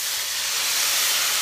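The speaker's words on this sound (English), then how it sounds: "So the spring water is going in." Spring water poured into a hot cooking pan makes a loud, steady steam hiss that builds slightly and stays close and continuous throughout.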